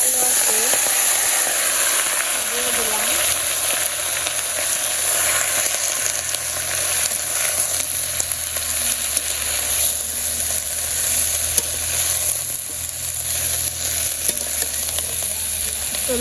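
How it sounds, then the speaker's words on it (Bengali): Cumin seeds tempering in hot oil for a village-style curry give a steady, close sizzle and hiss with faint stirring, continuous throughout. "জিরা ফোড়ন দিয়ে দিই"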